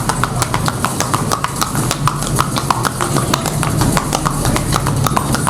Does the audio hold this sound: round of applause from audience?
no